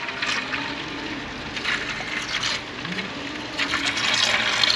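Pink transmission fluid from a damaged 2000 Ford truck transmission sloshes and swirls inside a container in continuous watery rushing surges, close and steady with no talking.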